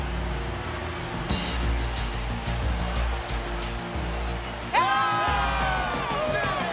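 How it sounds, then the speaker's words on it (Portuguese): Cheering crowd fills a Beyblade tournament arena with a steady roar that swells after a few seconds, a sharp whoop rising over the din while the noise stays loud throughout. "Escuta a torcida, cara"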